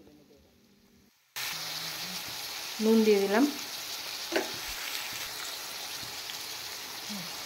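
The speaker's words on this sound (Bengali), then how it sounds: "আমি পেঁয়াজ, বেগুন, সিম একসাথে দিয়েই ফ্রাই করছি।" Onion, brinjal and flat beans fry together in a pan, a steady, fairly loud sizzle bursting in after a brief hush, with a few scrapes of stirring and a short spoken remark partway through.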